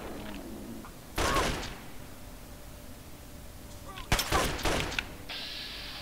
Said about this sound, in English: Then I'll shoot your other arm. And then I'll shoot you a lot